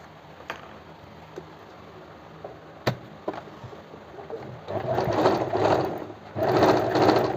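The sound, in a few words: sewing machine stitching a kurti blouse neckline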